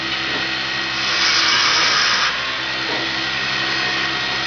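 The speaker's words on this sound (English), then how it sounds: "What's the most efficient tool for getting wood off a spindle?" A mini roughing gouge cuts wood on a spinning lathe spindle, a steady broadband hiss with a steady motor whine underneath that swells louder for about a second in the middle.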